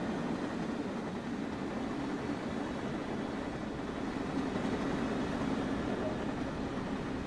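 A train runs on in Train Sim World 2, heard as a steady rumbling drone with constant track noise from an outside view.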